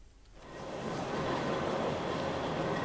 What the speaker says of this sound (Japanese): 黒部峡谷鉄道は黒部市の宇奈月駅から欅平駅までのおよそ20キロを1時間20分かけて走ります